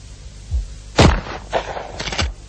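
Benelli shotgun shots fired in rapid succession, several sharp close blasts at irregular intervals with short tails, loud and clear with no talking.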